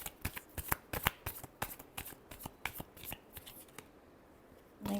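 Tarot cards being shuffled in a series of crisp, rapid riffles and flicks, close and fairly quiet, ending in a brief pause with a soft thump.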